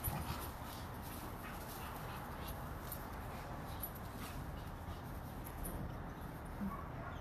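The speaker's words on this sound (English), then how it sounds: "the puppies are so crazy this morning" Puppies at a dog rescue house in the Everglades, Florida, giving faint whimpers and yips under a steady wash of background noise, heard from some distance.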